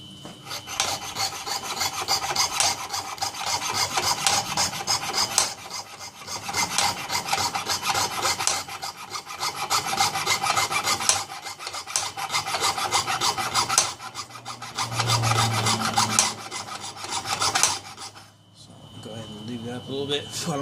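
A jeweler's saw fitted with a #6 blade cuts through steel in steady, evenly paced back-and-forth rasping strokes, close and continuous, with a brief pause near the end.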